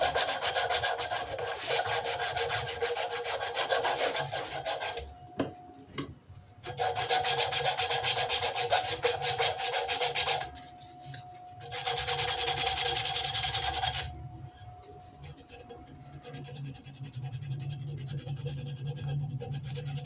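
Sandpaper rubbing back and forth on an old wooden screwdriver handle of unknown age, steady abrasive strokes in bursts with short pauses between, close and fairly loud, no talking.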